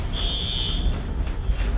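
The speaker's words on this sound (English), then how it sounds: "The alarms went off, the building started to sway slightly." Building fire alarm sounding during a strong earthquake in a Mexico City office tower, a steady high electronic tone holding for about a second over a dense low rumble of noise, then fading into the continuing background roar.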